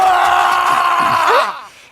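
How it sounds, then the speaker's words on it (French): A person in a Naruto anime scene lets out a loud, drawn-out scream that holds steady then bends and trails off, followed by near silence and a brief sharp sound. "Quelqu'un vient de crier."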